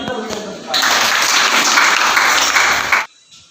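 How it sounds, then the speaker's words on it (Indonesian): Students in a twelfth-grade religious education class at a vocational school break into loud applause after speech, a dense burst of clapping that stops abruptly, leaving near silence. "Mari kita berikan tepuk tangan."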